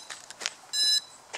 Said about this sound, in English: So it's crashed and it's gonna beep